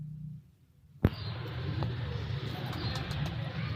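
Bandum tail-style Teddy pigeons coo softly in their coop after a sharp knock, with a low, continuous murmuring and light background noise.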